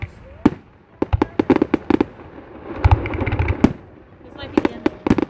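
Fireworks burst in rapid clusters of sharp cracks and pops, with a rumbling stretch in the middle, heard at a moderate distance while a person talks now and then.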